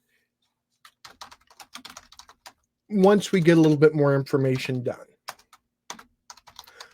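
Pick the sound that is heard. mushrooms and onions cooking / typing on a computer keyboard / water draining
typing on a computer keyboard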